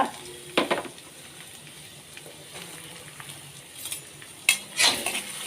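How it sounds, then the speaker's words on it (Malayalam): Chopped onion sautéing in hot oil in a wok (cheenachatti) while cooking egg curry: a low steady sizzle with a few louder scraping stirs and clinks of a utensil, no talk. "എണ്ണ ചൂടായി സവാള ഇട്ട് കൊടുക്കുന്നു. എന്നിട്ടൊന്ന് വഴറ്റുക."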